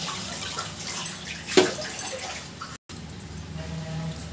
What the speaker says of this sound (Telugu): ఇప్పుడు 1 గ్లాసు వాటర్ పోసుకోవాలి